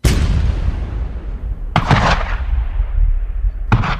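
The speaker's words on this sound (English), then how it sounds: "The cannon began to roar with incessant and tremendous fury." Cannon fire: three heavy booming blasts, each with a long rumbling tail, spaced about two seconds apart, loud and close with no voices.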